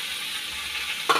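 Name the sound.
boiled potato added to frying soybean, sizzling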